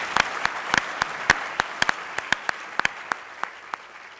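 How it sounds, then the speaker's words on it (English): Audience applause at an economics conference follows a presidential address in Manchester, sparse distinct hand claps echoing in a large hall, fairly faint, with no speech over them. "I'd like to actually just give a round of applause to them and the rest of the program."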